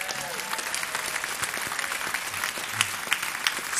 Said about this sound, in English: how about a round of applause for our idols in the hall?